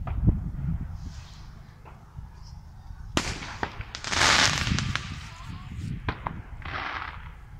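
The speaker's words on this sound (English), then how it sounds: "I just want to see all the fireworks." Fireworks crack and pop in scattered bursts at mid-distance, with sharp bangs and a dense crackling flurry, and people talk quietly in the background.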